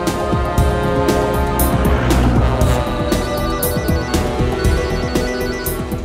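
A phone ringtone plays loudly and continuously, a repeating electronic melody with regular pulses, close by and with no one speaking.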